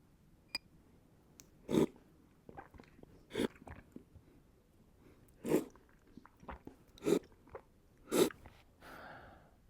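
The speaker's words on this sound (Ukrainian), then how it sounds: "А тепер найголовніше сьорбаємо і оцінюємо" Coffee being slurped from a cup to taste it, a series of short sharp slurps and sips spaced every second or two, close and fairly loud against a quiet room.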